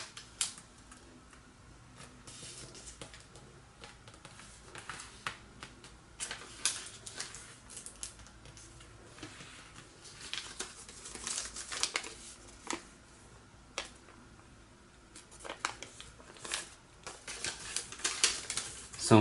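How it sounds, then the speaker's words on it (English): Paper being creased and folded into an origami flicker, with soft crinkles and sharp taps spread across the passage, faint and close with light background noise. "Fold both edges to the middle line."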